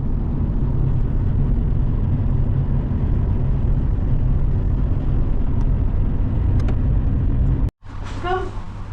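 Car cruising along a road in Iceland's Golden Circle toward a geothermal area: a steady low road and engine rumble throughout, cut off abruptly near the end by a brief different scene with faint voices.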